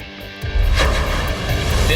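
An AR-50 .50 caliber rifle fired once at a target: after a quiet start, a single loud, deep boom hits and then rolls on as a low, heavy rumble to the end.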